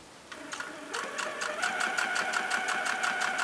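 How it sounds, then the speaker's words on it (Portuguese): A sewing machine stitches the sides of a fabric clutch bag, its needle running in a quick, even rapid-fire chatter that speeds up after a short start, close and fairly quiet, with no talk. "Terminando de costurar os dois lados"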